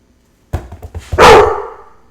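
A dog barking nearby, a few short soft yips leading into one loud, sharp bark that trails off, with no talking.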